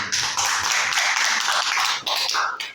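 A room of teachers applauding Bu Triani, dense continuous clapping at close range that carries steadily for nearly three seconds before thinning out.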